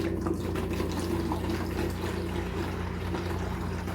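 Tap water runs steadily into a container of about two ounces of marine salt, mixed up as brackish water for green spotted puffer fish, with a constant near splashing rush and no talking.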